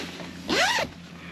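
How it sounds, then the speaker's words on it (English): A tent's mesh screen window on a Gazelle T3 Hub Tandem unzips in one quick, close, bright pull lasting about a third of a second, with faint background hiss around it. "We can just zip these open."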